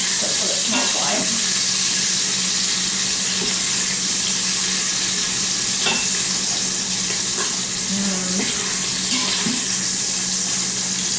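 Sausage sizzles in a quick cooker with a loud, steady, close hiss, broken by a few faint clinks and scrapes, with no talking.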